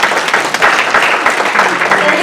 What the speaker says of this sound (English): So, thank you. Applause,